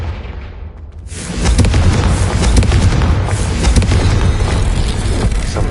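Confringo fire spell exploding in the game Hogwarts Legacy: after a quieter moment a loud booming blast erupts and rolls on as a sustained, crackling roar of explosions, close and heavy.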